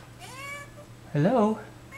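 A house cat meows twice nearby, a softer drawn-out call followed by a louder, wavering meow, with a quiet gap between.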